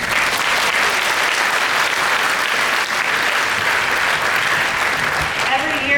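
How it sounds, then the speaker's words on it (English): Graduation audience at Townsend Harris High School applauding for the Class of 2025, a dense, steady wash of clapping from a large crowd filling the hall at full volume without a break. "so give yourselves a round of applause"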